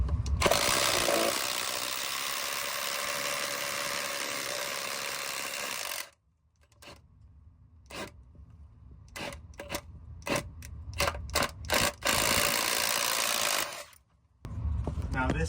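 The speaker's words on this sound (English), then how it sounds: "I think this is the spot to drill right here" Power drill boring into an exterior house wall, running steadily and loud for about six seconds, then cutting into a series of short stop-start bursts before a final sustained run.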